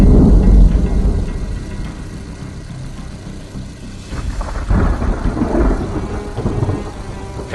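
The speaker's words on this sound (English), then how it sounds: "they run into severe thunderstorms." Severe thunderstorm with thunder and rain: deep rumbling roars and a steady rain-like wash rise and fall throughout, loud and close, with no voices.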